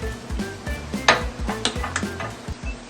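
Walleye cheeks from Lake Erie sautéing in a pan after being flipped, with a light crackle beneath repeated metal scrapes and taps of a utensil against the pan.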